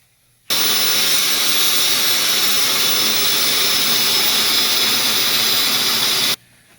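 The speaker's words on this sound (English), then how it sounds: "cut it with a grinder. Don't cut it with a torch." An angle grinder cuts through a Chevy S10 suspension part, a loud, steady high-pitched hiss and whine that starts abruptly, holds evenly for about six seconds, then cuts off cleanly, with no talking.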